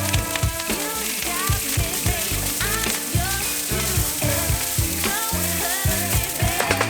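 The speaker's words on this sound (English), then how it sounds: "Add canola oil and day-old rice to the wok and mix to coat the rice in oil." Day-old rice frying in canola oil in a smoking-hot wok, a steady loud sizzle broken by rhythmic scraping and tossing as the rice is stirred, with no voices.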